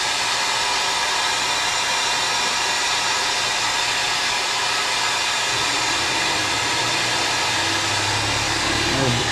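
An air compressor in a workshop runs as a steady, loud broadband whoosh with a low rumbling drone throughout, constant and close, with no speech over it.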